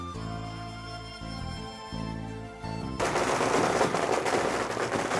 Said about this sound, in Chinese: 随着祭祀仪式的结束和鞭炮声的响起